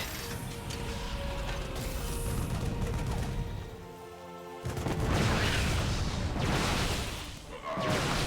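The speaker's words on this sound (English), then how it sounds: "Oh, that tank's sieging." A siege tank sieging in StarCraft 2, heavy mechanical clanking and ratcheting gear sounds with a whirring shift and booming impacts amid busy game battle noise.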